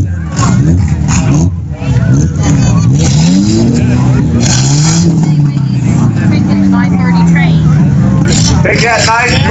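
Race cars circling a figure 8 track at a Clarke County heat, engines droning and rising in pitch as they pass, loud and continuous under steady commentator talk.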